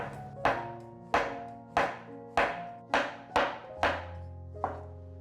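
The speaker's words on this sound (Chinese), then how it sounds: "把蘑菇切片。" A knife slicing a mushroom on a cutting board, eight distinct crisp knocks at an even, unhurried pace, close and fairly quiet with short decays between strokes.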